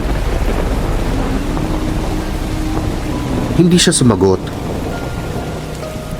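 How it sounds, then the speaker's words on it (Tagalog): Steady heavy rain pours throughout, with a brief louder rumble of thunder midway; a voice speaks quietly over the downpour. "Ang lakas ng ulan."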